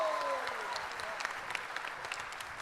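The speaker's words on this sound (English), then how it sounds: "Please give a big round of applause." Audience applause for a corporate speaker, a steady wash of clapping at moderate level with a faint tone gliding underneath, holding evenly for a few seconds.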